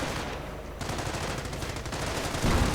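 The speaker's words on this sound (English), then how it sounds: "Heavy machine gun going in." Heavy machine gun fire in a real-time strategy battle, a dense continuous rattle of shots at steady volume within a noisy wartime soundscape, growing slightly louder toward the end.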